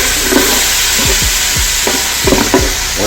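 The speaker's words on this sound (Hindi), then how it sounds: "अब इसमें हम टमाटर डालेंगे।" Tomatoes dropped into loudly sizzling browned onions for mutton pulao, a steady close hiss of frying oil under several scraping stirs of a spoon, with no talk.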